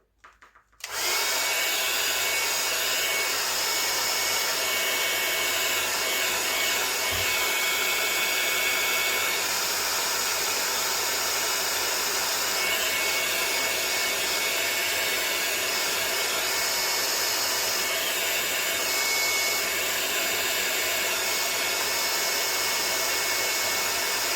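A hair dryer switches on and roars loudly and steadily for the whole span, blowing air over a watercolor painting, a constant close whoosh with no talk.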